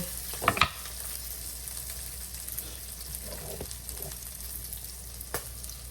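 Green chili and fennel seeds sautéing in a pan for dried-fish curry, a soft, even sizzle heard close, with a couple of sharp clatters and occasional stirring taps, no talk.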